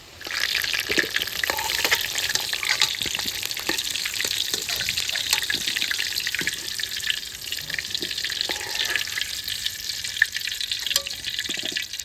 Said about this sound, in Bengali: তেল গরম আছে আলু ভেজে নিছি